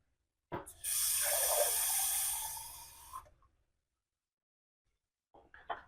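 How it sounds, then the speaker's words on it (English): Water from a kitchen tap, gushing steadily for about three seconds close by, then cutting off, with a brief clatter near the end. "So I'm going to get it from the tap first."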